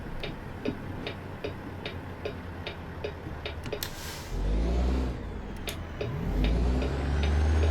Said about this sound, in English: I put on my direction light